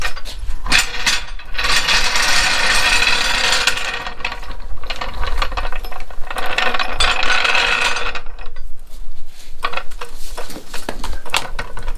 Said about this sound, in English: So I'm going to go ahead and jack her up real quick.